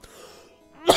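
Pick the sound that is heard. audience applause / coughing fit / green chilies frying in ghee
coughing fit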